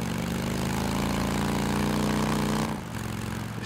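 Motorcycle engine idling in the video game Days Gone, a steady low rumble held close and loud, then dipping briefly near the end before settling back to idle.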